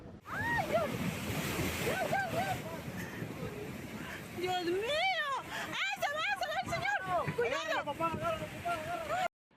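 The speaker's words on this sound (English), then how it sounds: "Unusual giant waves hit the coasts of Peru, Ecuador, and Chile" Giant ocean waves pound the coasts of Peru, Ecuador and Chile with a loud, continuous surf roar and rushing water, heard beneath a prominent voice.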